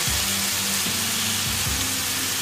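Poppy seeds fry in a pan with salt and turmeric, producing a loud, continuous close-up sizzle, with a few low scraping strokes of stirring heard through it.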